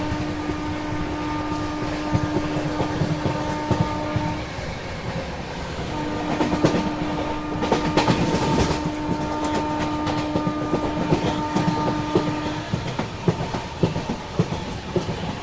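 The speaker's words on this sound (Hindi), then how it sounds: "जबरदस्त क्रॉसिंग 120 की रफ्तार में। ये थी अनन्या एक्सप्रेस।" An Ananya Express train rushes past at about 120 km/h, a loud, close, continuous roar of wheels and carriages with long sustained horn blasts running through most of the pass.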